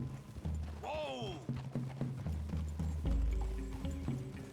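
Horse hooves clip-clop rapidly in Red Dead Redemption 2 while a horse whinnies once early on; voices talk over the galloping.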